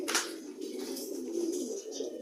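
A pet pigeon recovering from illness coos softly and continuously nearby, a low rolling murmur with a brief sharper sound at the start.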